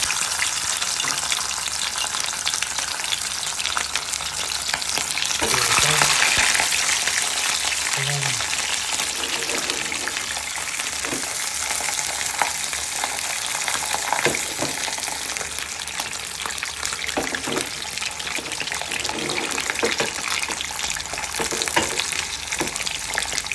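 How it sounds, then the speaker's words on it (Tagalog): Small tilapia fry in hot oil in a pan, a dense continuous sizzle and crackle with occasional louder spits, close by, while a person talks at times in the background. "Yan, dito natin ipiprito."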